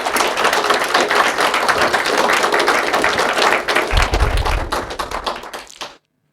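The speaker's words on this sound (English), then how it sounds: "That's actually got a round of applause for Mike." Audience applause for Mike Linton at a political conference, a dense, steady wash of clapping from a crowd that holds for about six seconds before stopping abruptly, with a few louder thumps near the end.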